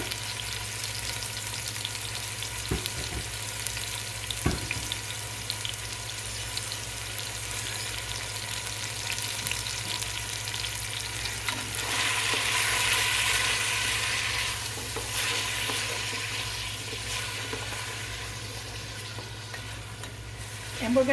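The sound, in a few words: sauteing onions and carrots in a pot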